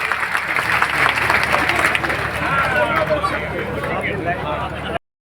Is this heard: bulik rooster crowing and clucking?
no